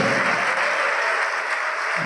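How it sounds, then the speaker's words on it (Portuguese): A church congregation claps steadily and loudly, a dense wash of applause that fades slightly toward the end. "Oh glória, vamos aplaudir, igreja."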